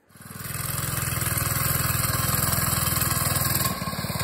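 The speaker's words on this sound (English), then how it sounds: "You can tell the 3 horsepower is a little weak, but it's up and running." A small 3-horsepower go-kart engine on a Manco kart runs close by at a steady idle, with a rapid even putter that starts, holds, then dips briefly near the end.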